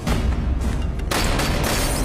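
Gunfire and explosions in a shooter video game, a dense continuous barrage of booms and shots that grows louder and brighter about halfway through, with no talk.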